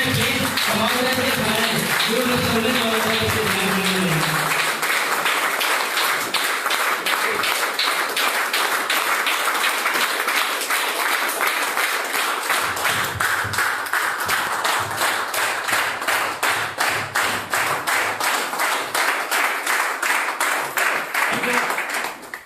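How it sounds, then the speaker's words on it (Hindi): Audience rising at a leadership training session in Kaushambi claps in unison with no music, a long steady run of sharp, evenly spaced hand claps after a brief spoken opening. "आज हम सभी लोग खड़े होकर के एक बार जबरदस्त बिना म्यूजिक के केवल तालियां बजाएंगे"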